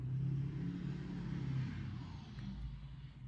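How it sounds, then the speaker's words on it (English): A loud truck with a deep monster-truck rumble drives past outside, a low heavy engine drone that swells and then fades, heard at a distance with no talk. "a monster truck sounding truck just drove by"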